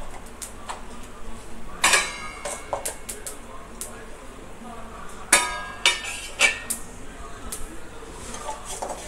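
Plates and pots clink in a few sharp, scattered knocks as dry-roasted spices are moved onto a plate for a kulambu, with quiet kitchen background between the hits.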